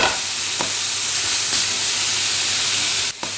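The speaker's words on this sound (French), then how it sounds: "Je les mets griller comme ça. On appuie dessus avec un couteau." Summer vegetables sizzle and hiss on a hot grill for a pizza topping while being pressed down with a knife, a close, steady frying crackle with a couple of brief clicks and no talking.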